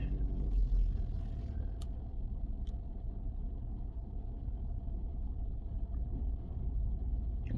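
A 2025 Lexus GX 550 Sports Luxury engine idles and creeps at low speed during a tight three-point turn, giving a steady, close, low rumble that stays even throughout without strong revs.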